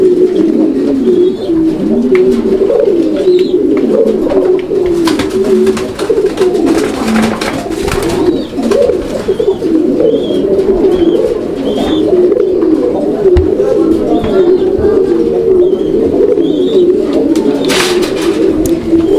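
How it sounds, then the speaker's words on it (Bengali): A pair of red Rajgolla fancy pigeons coo repeatedly and loudly up close, their low throaty calls rolling on continuously throughout, with faint chirps from other birds in the background. "আপনারা দেখতে পাচ্ছেন কবুতরটা কি পরিমাণ ডাকে, একদম ভরপুর ডাকের একটা পেয়ার"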